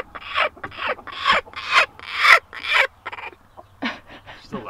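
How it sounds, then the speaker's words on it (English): A broody hen clucks loudly and insistently up close, a series of harsh, raspy squawks in quick bursts. "She's the loudest broody I've ever had."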